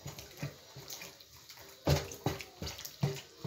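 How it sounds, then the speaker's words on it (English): Water splashes and sloshes in a series of irregular bursts as meat for kilishi is rinsed and turned in a filled basin of hot water, close by. "I'm washing it in hot water."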